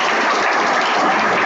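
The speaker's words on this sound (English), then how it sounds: "Give a big round of applause." Applause for a third-prize winner at a medical college award ceremony, a dense, steady wash of clapping at close range that holds level for the whole short stretch.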